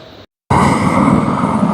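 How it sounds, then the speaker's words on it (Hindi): Helicopter arriving to land on the Shri Hemkund Sahib yatra route, a loud, close rotor and engine roar that cuts in abruptly after a brief silence and holds steady. "देखिए भाई हेलीकॉप्टर भी चल रहा है और आ चुका है हेलीकॉप्टर, लैंड करेगा"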